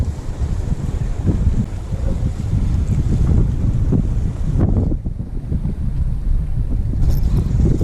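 Strong wind on the Canary Islands coast of Lanzarote roars and buffets steadily across the microphone, a loud, continuous gusting rumble with occasional surges and brief dips.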